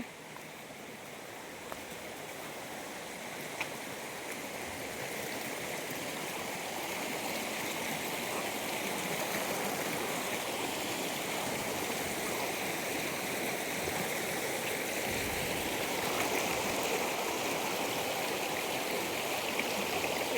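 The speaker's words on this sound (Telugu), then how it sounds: "చూడండి జలపాతం నుంచి వాటర్ అయితే వస్తూనే ఉన్నాయి" Steady rushing of flowing water from a waterfall in the Seshachalam forest, a continuous broadband roar that holds level throughout with no voices.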